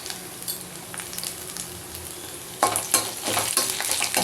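Chopped ginger fries in a pan with curry leaves and dried chillies: a low steady sizzle, then louder crackling bursts and spatula scrapes as the mix is stirred, close up.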